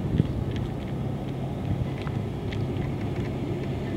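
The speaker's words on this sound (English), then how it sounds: "EcoBoost engine, you can hear it running there nice and quiet." A 2013 Ford F-150 XTR EcoBoost idles quietly, a low steady engine hum with some wind noise over the microphone and faint handling clicks.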